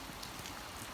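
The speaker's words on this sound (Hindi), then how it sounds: "बारिश अभी भी हो रही है ज़बरदस्त किस्म।" Heavy, steady rain pouring down around a horse stable during a flooding downpour, a dense continuous hiss with no clear breaks, fairly close and alone.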